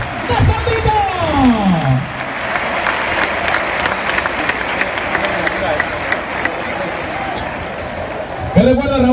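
A big crowd in a Valencia bullring applauds at a cutting contest, loud continuous clapping and cheering, with an announcer's voice sweeping over it at the start and again at the end.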